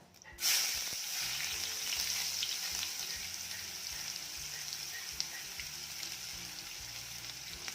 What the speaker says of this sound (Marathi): कांदा देखील छान परतून घ्यायचा आहे